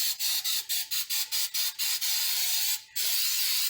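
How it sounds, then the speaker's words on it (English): Coconut oil cooking spray spritzed in a series of short, rapid bursts, about ten quick hisses followed by one longer sustained spray, close and loud with no talking. "I'm going to spray this coconut oil spray"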